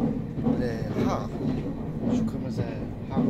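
A passenger train rolls through the Japanese mountains of Gifu Prefecture toward Takayama, giving a continuous low rumble with faint rhythmic clatter while people talk over it.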